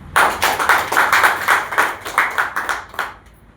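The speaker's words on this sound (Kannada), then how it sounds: "ಅದಕ್ಕೊಂದು ಜೋರ ಚಪ್ಪಾಳೆ ಕೊಡಿ" An audience claps loudly in a quick, uneven rhythm of sharp hand slaps, close and punchy, tapering off and stopping near the end.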